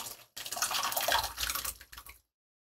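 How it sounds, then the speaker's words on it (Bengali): Boiled dal poured into a pan over tomato and spices, a wet sloshing gush lasting about two seconds, close and fairly soft, then silence. "সেই সিদ্ধ করে রাখা ডালগুলো দিয়ে দিচ্ছি"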